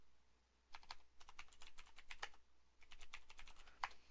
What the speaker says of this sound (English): let me type in technical settings